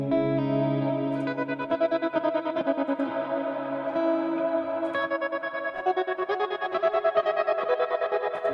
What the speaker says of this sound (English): there's an auto wah behind the reverb, just on the reverb